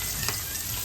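Small chivani fish, salted, fry directly on a hot griddle with a steady, dense sizzle that crackles continuously and close up, without any voices.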